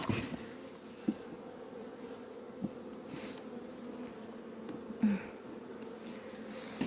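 Honeybees in a hive feeding on their stored food in early March make a faint, steady low hum throughout, with a few soft knocks and brief louder buzzes near the microphone.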